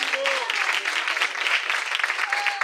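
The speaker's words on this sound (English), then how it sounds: "Can we give a big round of applause to Mo?" An audience in a heated festival tent at a gurukul in Watford gives a round of applause. Dense, even clapping carries on throughout the short stretch, with a few voices and faint whoops mixed in.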